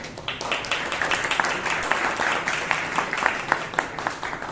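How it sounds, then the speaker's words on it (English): Audience at a Toastmasters club meeting in Bangalore applauding the general evaluator, steady crowd clapping that stays fairly even throughout, with faint voices underneath. "A big round of applause for him."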